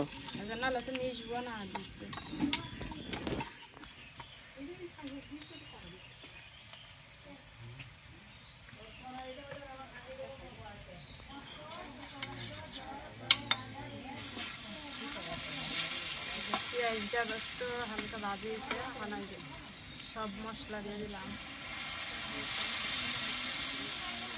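Spice paste loosened with water being stirred in a cooking pan, giving a continuous wet sizzle and scraping that swells louder toward the end, with voices talking over it.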